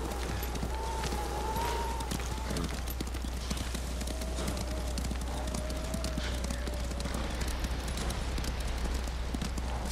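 Horse hooves clip-clop steadily in Ghost of Tsushima, a walking or trotting rhythm over snowy ground with a low hum underneath, and a faint whistling tone drifting above.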